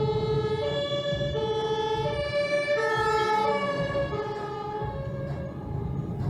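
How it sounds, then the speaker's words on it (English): An ambulance siren wails behind a vehicle waiting at a red light, rising and falling steadily and fairly loud over a constant rumble of road traffic. "he's at a red light and hears sirens from behind"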